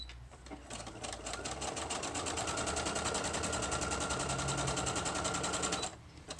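A sewing machine stitches near the edge of a file folder journal cover. After a brief start, it runs a rapid, even mechanical rattle for about five seconds, then stops abruptly, close and with no talk over it.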